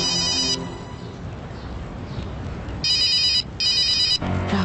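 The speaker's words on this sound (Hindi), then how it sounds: "Raghav sir? Pick up the phone Yadav" Telephone ringing in an Indian TV drama scene, two bursts of electronic ring tones close and clear, separated by a quiet pause, with a short ring at the start as well.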